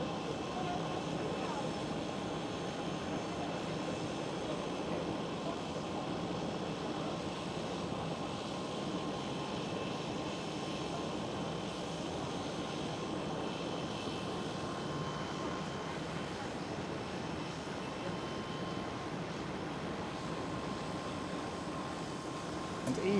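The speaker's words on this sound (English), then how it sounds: "KLM Asia 777 over there." A KLM Asia Boeing 777 airliner flies past near Schiphol Amsterdam, a steady broad jet roar at moderate distance that holds evenly throughout, easing slightly toward the end.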